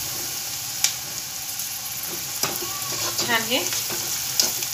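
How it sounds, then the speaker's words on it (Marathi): Mutton frying in oil with red chilli, black pepper and salt, a steady close sizzle with occasional utensil clinks and stirring scrapes, and a brief voice speaking partway through. "एकसारखं तेलात फ्राय करून घ्यायचं।"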